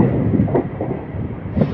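Kakinada Port to Vijayawada MEMU express train running, a steady rumbling rattle of the carriage with faint rhythmic knocks, heard from inside a crowded coach.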